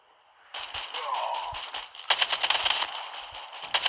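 AK-47 automatic fire in a video game, rapid bursts of crackling shots rattling off in two main volleys, fairly close and sharp, with faint game sounds between.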